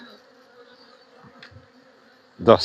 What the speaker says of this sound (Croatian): Dosta više pčele, evo ovaj 3. ram, pola rama zalegnuto.